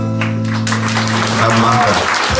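Loud, dense applause from a concert audience fills the whole stretch, with sustained musical tones ringing steadily underneath the clapping.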